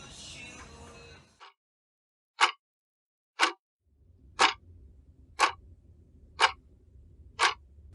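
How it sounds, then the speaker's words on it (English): Sharp, evenly spaced ticks sound alone, about one per second, six or seven in a row, with a low hum entering partway through. "What the heck is this ticking noise?"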